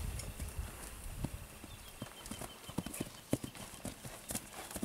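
A work horse's hooves clip-clop at a relaxed walking pace, a steady series of hollow knocks close by against a faint outdoor background.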